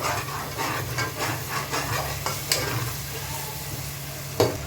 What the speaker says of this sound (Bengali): যতক্ষণ না মশলা থেকে তেলটা ছাড়ছে ততক্ষণ অবধি কষে নিতে হবে